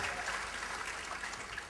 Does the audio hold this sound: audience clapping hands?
yes